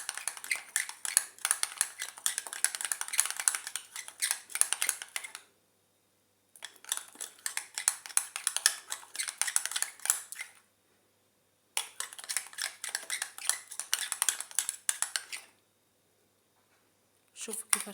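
Henna paste is stirred and mixed in a bowl, giving close, gritty scraping strokes in three long runs separated by short pauses.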